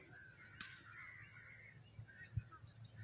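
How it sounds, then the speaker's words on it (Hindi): Faint morning bird calls in the distance, including a few crow-like caws, over a quiet outdoor background with a steady high insect hum. "आपके आसपास परिंदों की आवाजें हैं,"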